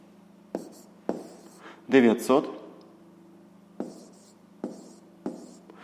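Pen strokes of handwriting on paper during a fifth-grade maths division exercise, short scratchy bursts spaced across the clip with a brief louder scribble near the middle, close and fairly quiet over a faint steady hum.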